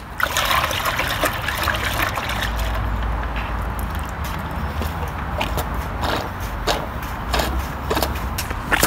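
Soapy detergent water trickles and gurgles out of the discharge hose of a siphon fuel transfer pump, a steady close wash of running liquid with small splashes and occasional clicks.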